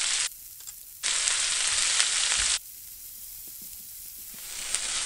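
Chopped bacon with onion, celery, carrot, garlic and thyme sizzling in a pan, a steady close frying hiss that jumps louder in bursts as the food is stirred, with no talk.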